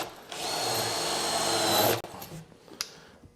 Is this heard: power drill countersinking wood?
yes